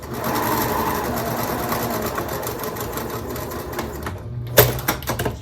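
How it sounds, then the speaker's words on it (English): A sewing machine runs steadily, topstitching a fabric pocket with a continuous mechanical whir, close up and alone, before slowing and stopping with a few clicks near the end. "I didn't want to talk while I was sewing so that you might not be able to hear me"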